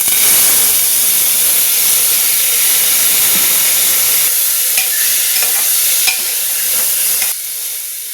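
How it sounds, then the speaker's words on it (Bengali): Cut vegetables sauté in hot oil seasoned with cumin seeds and dried chilli, a steady close sizzle with scattered stirring scrapes and clicks, the frying softening slightly toward the end. "সবজিগুলো হালকা করে সটে করে নিয়েছি।"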